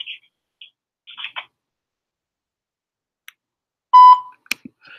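A single clear tonal voicemail prompt beep on a phone call, loud and brief, set among faint clicks and short bursts of distant voice on the line.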